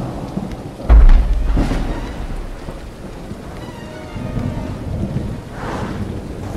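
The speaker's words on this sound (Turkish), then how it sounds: "Yağmur da başladı." Rain and thunder in the horror game The Beggar: steady rain falls throughout, with a heavy, close rumble of thunder early on and a softer swell later, and no one speaking.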